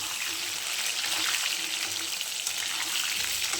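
Potatoes fry in a pan for aloo rezala with a steady, dense hiss of sizzling oil. The sound is close and continuous at an even level, with no speech.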